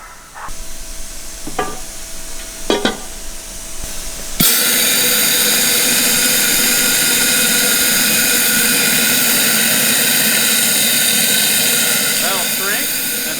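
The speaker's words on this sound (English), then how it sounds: "Is that just blowing cold air? Room temperature air." A blower pushes room-temperature air onto a wheel to shrink it, bursting on as a loud, steady close-up roaring hiss that runs unbroken after a few seconds of quieter knocks and taps at the start.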